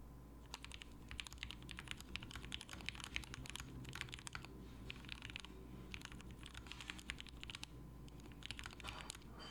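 Typing on a polycarbonate Elongate keyboard build, a steady run of close, crisp key clacks in quick irregular bursts with brief pauses, no voices over it.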